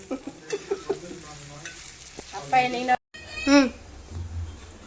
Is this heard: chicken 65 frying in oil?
yes